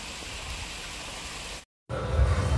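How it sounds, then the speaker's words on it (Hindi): Amboli waterfalls in the rainy season pour out a steady, rushing roar of flowing water, broken by a brief moment of total silence before the loud rush returns. "गाइस ये छह अम्बोली वाटरफॉल्स"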